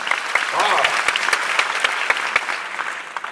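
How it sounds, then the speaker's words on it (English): A seminar audience in Singapore claps in a big round of applause, dense steady clapping filling the hall close by, with no talk over it. "Can we give them a big round of applause?"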